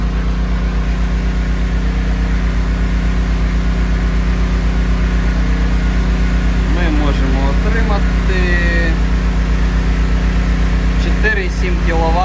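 A MiniPower inverter heat pump hums steadily, drawing power from a small generator, its constant drone filling the space while someone talks over it.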